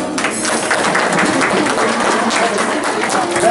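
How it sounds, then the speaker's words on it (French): A crowd in a hall claps for a woman picked from the audience at a game show event, a loud, busy patter of hands that runs continuously with some faint crowd noise mixed in. "On peut l'applaudir, hein?"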